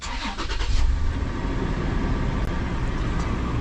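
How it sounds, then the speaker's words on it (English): A Toyota 4Runner engine cranks and catches, then settles into a steady, loud idle close by, with a brief clatter as it fires up. "So I'm gonna start the car."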